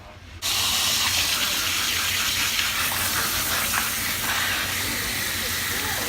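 A steady, loud rush of spraying water rinses hair at a salon, bursting on just after a brief quiet start and hissing on without a break.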